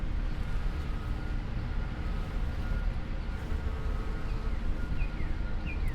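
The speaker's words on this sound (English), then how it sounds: "And the bees are loving it." Bees buzz steadily and continuously close by, a dense droning hum with individual insects whirring past near the end.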